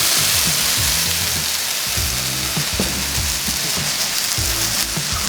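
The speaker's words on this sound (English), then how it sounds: "So I have a really hot pan. I don't need to add oil or anything. I'm just going to throw my blueberries in." Blueberries and bourbon frying in a very hot dry pan, giving a loud, continuous sizzle like steady rain, close up and alone, with a low rumbling hum underneath.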